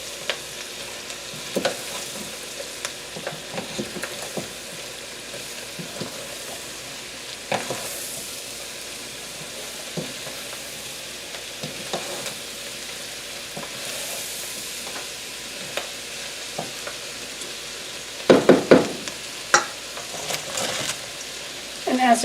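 Kielbasa and cabbage fry in a pan with a continuous sizzle, broken by scattered scrapes and taps as a utensil stirs them, the stirring growing busier and louder toward the end.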